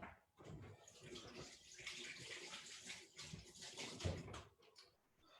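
Hands being rinsed under a running kitchen tap while making bread dough, a steady close splashing water stream lasting several seconds with brief clatters, no talking.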